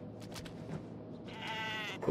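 In Kenshi, a goat gives a single wavering bleat late in the moment, following some quieter scattered noises, over a constant low game background.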